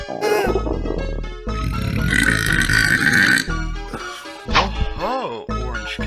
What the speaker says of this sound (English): What's with all the burping?